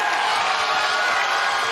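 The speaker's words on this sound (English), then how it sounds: "And the crowd coming alive for Queen Amanada" Wrestling arena crowd roaring and cheering for Queen Amanada, a steady dense wall of loud crowd noise throughout with no breaks.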